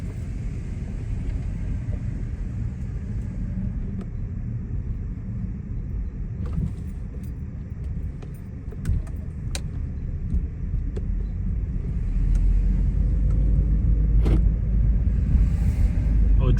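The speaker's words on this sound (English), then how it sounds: "Let's go give it a little test drive." A 2011 Mercedes-Benz E-350 drives along a road, its engine and tire rumble steady and close from inside the cabin, swelling louder toward the end, with faint clicks and rattles but no talk.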